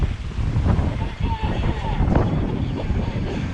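Wind buffets a sailboat in roughly 15 knots, roaring and gusting steadily against the microphone with water sounds beneath.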